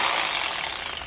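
A power tool grinds loudly and continuously up close while cutting off a car's engine fan clutch during an LS400 turbo build.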